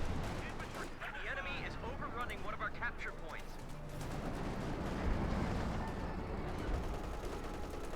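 Machine gun fire and explosions in a Company of Heroes 2 battle, a dense rumble of distant shots and blasts running the whole time beneath a commentator's steady talk.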